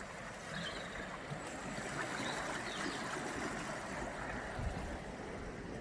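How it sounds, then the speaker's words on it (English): The River Itchen at the base of a hill, a steady broad rush of flowing water heard outdoors, continuous and moderately loud with no voices. "It's the River Itchen, who runs at the base of the hill."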